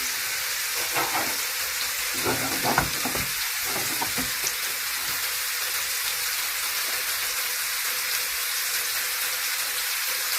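Kofta frying in a pan, a constant close sizzle and hiss of hot oil with a few brief clinks and stirring sounds early on.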